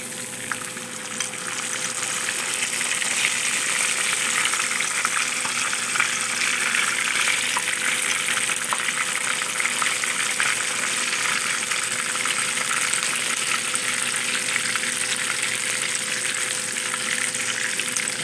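Lemon pepper fish frying in hot oil with a steady, loud, continuous sizzle that holds evenly throughout, with no talking.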